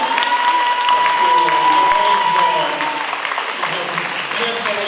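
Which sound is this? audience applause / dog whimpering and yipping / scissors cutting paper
audience applause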